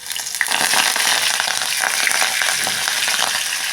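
Crushed garlic cloves and curry leaves frying in hot oil in a kadhai for a chana dal amti, a loud, steady sizzle with faint stirring scrapes and no voices.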